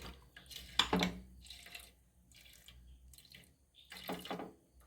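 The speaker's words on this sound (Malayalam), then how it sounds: "വെള്ളം ആവശ്യത്തിന് നമ്മൾ ഒഴിച്ചു കൊടുക്കണം" Water poured onto squeezed coconut to extract a second coconut milk for fenugreek milk rice porridge, a close splash near the start and another pour toward the end, with quieter trickling between.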